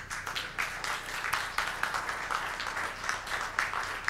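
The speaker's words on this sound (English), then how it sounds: "I think that we really need to applaud Sarah if we have the opportunity" A church congregation applauds Sarah during a worship service, a steady wash of many hands clapping at moderate distance for several seconds, with no speech over it.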